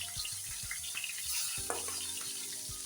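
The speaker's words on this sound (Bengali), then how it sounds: "সেই মাছ ভাজার তেলেই বেগুনগুলিকে সুন্দর করে 2 পিস লাল লাল করে ভেজে নেব" Eggplant pieces fry in leftover oil from frying tengra fish, giving a steady close sizzle with occasional soft clinks and scrapes of stirring.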